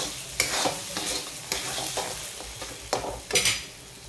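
Egg bhurji being stirred in a frying pan, soft continuous sizzle broken by repeated spatula scrapes and knocks against the pan, close and alone.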